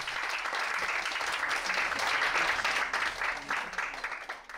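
Audience applauding a young pansori singer in hanbok on a dim stage, a dense round of clapping that swells in the middle and then fades away.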